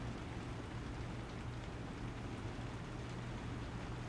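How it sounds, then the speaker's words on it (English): Steady rain falls in Florida, a constant close hiss of drops on surfaces with a low hum underneath and no pauses. "It's raining."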